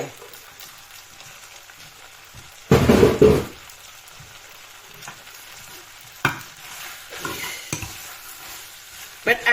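Glass noodles with marinated pork and spring onion are stir-fried in a pan, with a soft continuous sizzle under several loud scraping, tossing strokes, one long burst early and shorter clatters later, close by with no speech.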